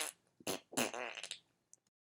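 A comedic fart sound effect: a couple of short sputtering blasts, then a longer, wetter rattling one that trails off, loud and close with no talking.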